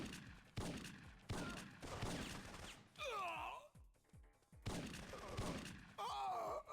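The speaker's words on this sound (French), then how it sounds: "Tirer au fusil à pompe depuis le balcon encore là." Shotgun blasts and gunfire from the video game Syphon Filter, fired from a balcony. Loud repeated shots come in bursts, mixed with game groans and other effects.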